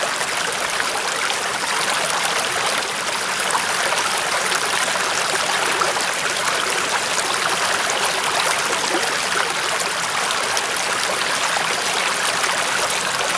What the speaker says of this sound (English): So there you can see the water flow coming through